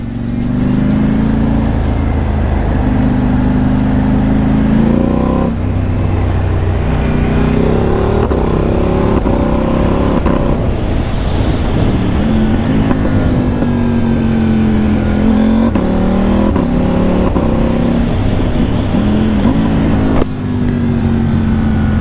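A 2022 KTM 890 Duke motorcycle engine runs close by, loud and continuous, with repeated rises and falls in pitch as the rider revs and cycles through riding modes.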